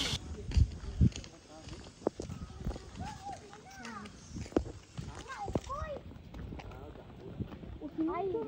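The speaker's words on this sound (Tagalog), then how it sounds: "Ito ang kabayo namin, guys." A farm horse walks with hollow clip-clopping hooves, some sharp footfalls up close, while people talk over it outdoors.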